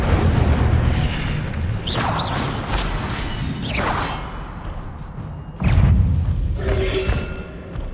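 A fire spell cast in the Hogwarts Legacy video game, heard as loud booming magical bursts and whooshing blasts, a couple of strong thuds with a fresh impact near the end over a constant game ambience.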